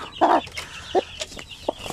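Several short clucks from a Shamo Asil hen spaced across two seconds, close by, with quieter farmyard chatter and a few faint bird calls in between.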